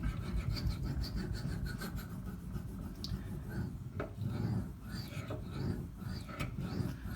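A Cold Steel Demko AD-15 knife blade scrapes back and forth on a sharpening system in quiet, repeated rasping strokes close by, with soft talk over it.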